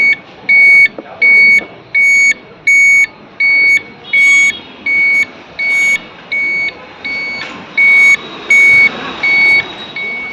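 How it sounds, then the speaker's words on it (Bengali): A Neo Light electric scooter's hazard indicator beeps in a steady, evenly spaced series of about fourteen short, loud tones, with faint background hum between them. "হর্ন, হ্যাজাক দিয়েছে গাড়িতে, হ্যাজাক ফোর ইন্ডিকেটার জ্বলবে।"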